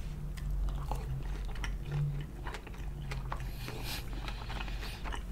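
Someone chews vegan sushi rolls made with imitation crab, avocado, cucumber, sauce and onions, close to the mic. The wet, crunchy bites and mastication are steady and intimate, with small clicks under a low background hum and no talking.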